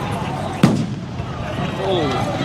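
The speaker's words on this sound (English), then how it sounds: "Yeah, because that firework is kind of an audio marker." A single firework bursts outdoors during a crowd protest, one sharp loud bang near the start that rings out over a continuous din of crowd noise and voices.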